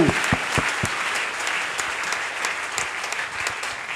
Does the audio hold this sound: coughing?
no